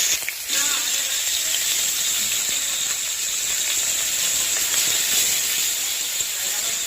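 Chopped onion hits hot oil and sizzles in a steady, bright hiss that starts with a sharp burst and continues evenly throughout.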